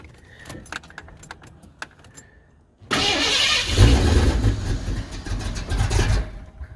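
Keys jangle faintly in a Ford Mustang Foxbody, then the engine cranks and catches into a loud, rough idle that continues to the end.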